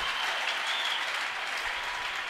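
A church congregation claps together during a testimony service, producing a thick, even wash of applause that fills the space without pause and with no voices on top.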